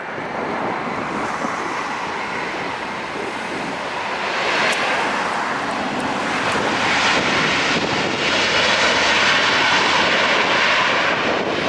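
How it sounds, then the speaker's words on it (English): A Delta Boeing 767 touches down at LAX, its broad jet roar swelling and holding loud and close for several seconds amid rushing wind-like noise, with no voices. "We got a 767 touching down here real quick"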